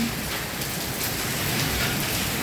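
Heavy rain mixed with hail pours down steadily in Saudi Arabia in a dense, even hiss, with no voices and no clear thunder.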